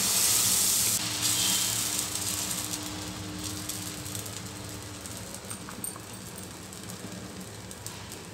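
Dosa batter sizzling on a freshly cleaned hot griddle for egg masala dosa, a steady crackling hiss that holds up close and loud throughout, slowly easing, with no talking.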